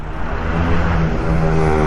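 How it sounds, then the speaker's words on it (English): A seaplane engine fired up on the beach at a seaplane festival in Los Alcázares, Spain, a loud, steady propeller-driven drone running without a break, close by and alone. "Oh, somebody's fired up a plane."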